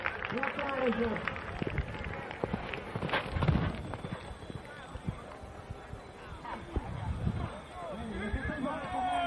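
Horse hooves clip-clopping at a run during a village chicken race, sa cursa de sa pudda in Isili, Sardinia, with a rider on the horse Chicca, steady hoofbeats under an excited announcer and crowd chatter.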